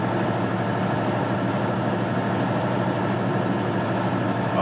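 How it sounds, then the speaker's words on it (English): Truck engine idles during an in-cab inspection, a steady low rumble with an even mechanical drone, near and constant throughout with no speech. "I'm going to turn the engine off."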